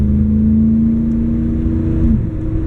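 Car accelerating on a test drive after transmission tuning, with a steady, loud engine drone rising in pitch and then dropping at about two seconds as it shifts from first to second gear, no talk.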